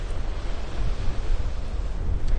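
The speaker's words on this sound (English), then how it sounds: "I know it's really windy out here" Strong wind buffets the microphone on a snowy Rhode Island beach after a March 2018 snowstorm, with loud gusty low rumbling and surf-like roar filling the whole stretch.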